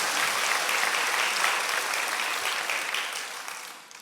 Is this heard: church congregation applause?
yes